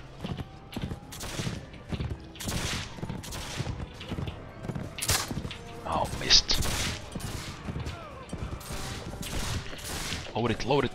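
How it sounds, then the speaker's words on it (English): Musket volleys crack out in the video game Mount & Blade With Fire & Sword, sounding as a rapid, irregular string of loud sharp shots over about eleven seconds with battle noise and hoofbeats beneath. "Fire at will, fire charge."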